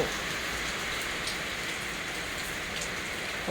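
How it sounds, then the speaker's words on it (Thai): Steady, dense rainfall patters on surfaces, a constant close hiss with no pauses. "ฝนตกค่ะฝนตก"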